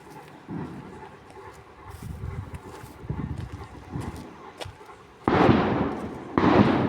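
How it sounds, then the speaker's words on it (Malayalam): Firecrackers from a nearby temple festival bursting in bursts, several sharp pops followed by two loud, close explosive blasts near the end, beside a banana plantation. "അടുത്തൊരു പൂരുണ്ട് അതിൻ്റെ വെടിപൊട്ടലാ"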